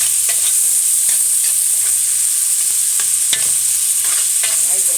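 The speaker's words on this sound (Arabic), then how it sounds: "الفلفل انا طبعا مقطعاه حطاه في الفريزر، فعشان كده عمل الصوت ده" Frozen chopped colored bell peppers hit a hot pan and are stirred, giving a loud, continuous close-up sizzle broken by scraping strokes of the spoon, with no talking.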